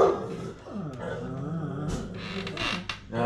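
Dogs bark, growl and whimper in a restless, irregular run of yips and snarls, close by and fairly loud.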